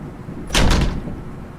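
A door slams shut in a video game: one heavy, loud thud with a brief sliding rattle, standing alone against a quiet background.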